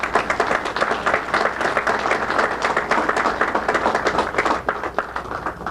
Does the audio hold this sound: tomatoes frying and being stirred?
no